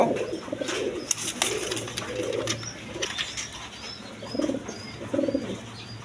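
Big Lahori pigeons in a coop coo in low, throaty rolling bursts nearby, with faint chirps and occasional wing flutters in the background.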